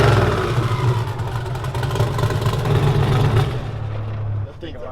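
A 1,000 hp drift car engine revs loud and close, holding a strained, buzzing roar before dropping off near the end, with people talking over it.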